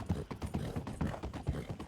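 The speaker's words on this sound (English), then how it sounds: "All right, let's go. Clip clop." Horse hooves clip-clop steadily in Red Dead Redemption 2, a close, regular four-beat walking rhythm of soft, hollow knocks repeating throughout without talk.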